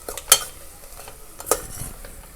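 Spices for paneer curry stirred in a pan over low flame, with a faint, quiet sizzle and two clear metallic clinks of a spoon against the pan.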